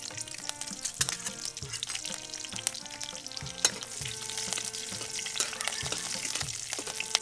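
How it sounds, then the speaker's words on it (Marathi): Halved green chillies fry in hot oil in a kadai, a dense crackling sizzle that runs the whole time with quick spits and pops, close and fairly loud. No voices. "आता अर्ध्या खोडलेल्या मिरच्या तळून घ्यायच्या"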